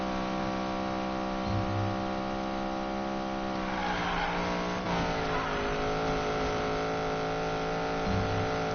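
Car engine droning steadily at speed on a highway during a video game race, a continuous hum that shifts pitch briefly midway, loud and close with no talk.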